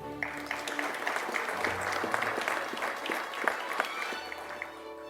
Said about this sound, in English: His family can clap for him.